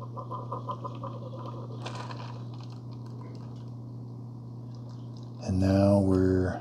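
A Keurig K-Supreme Plus coffee maker brewing Lipton Southern Sweet Tea over ice hums steadily with soft patter and gurgling, then a louder pump-like whine rises near the end while a person talks over it.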